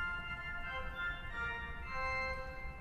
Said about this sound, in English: the Spitzoktav.